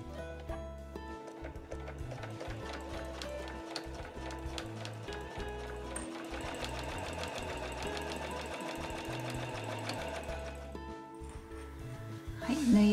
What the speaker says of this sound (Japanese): じゃあ1センチ先に針を下ろして返し縫いからスタートします。